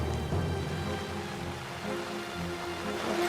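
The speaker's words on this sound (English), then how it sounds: "Pitching a tent in the rain's bad enough" Steady rain pattering on a tent as a shelter is set up, a dense continuous hiss of drops on fabric filling the whole stretch without any voices.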